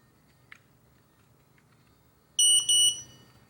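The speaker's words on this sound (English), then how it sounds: "The double beep indicates that the compass learning procedure is now complete" Two short, high-pitched electronic beeps sound in quick succession in a quiet room after a faint click, an RC EYE Navigator 250 drone signalling completed compass calibration.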